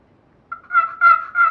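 A few quick, sharp turkey cuts from a scratch box call, close and clear, in a short burst with no talking.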